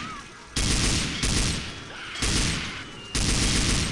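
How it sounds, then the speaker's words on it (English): An assault rifle with an ACOG scope fires in Left 4 Dead 2, with four loud, sustained bursts of rapid automatic gunfire separated by short gaps. "It's an assault rifle with ACOG."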